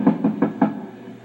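Four evenly spaced knocks on a door, close and fairly loud, with no talking.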